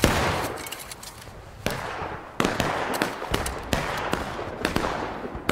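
Musket volleys fired on command in a skirmish video game, a series of sharp, loud cracks at irregular intervals, some overlapping into ragged bursts against steady battlefield background noise.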